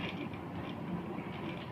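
Sewing machine running steadily while stitching a salwar, a continuous close mechanical whir with faint rhythmic ticking and no voices.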